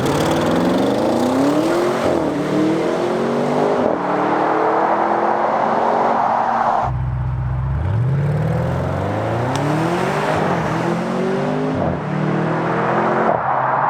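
2021 Audi RS6 fitted with a Milltek exhaust accelerating hard through the gears, a loud close roar that climbs in pitch, drops sharply at a shift around midway, then climbs again without talk.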